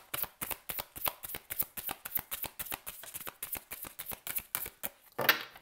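Tarot cards being shuffled by hand, a quick run of close, crisp riffling flicks in an even rhythm, fairly quiet, with no talk.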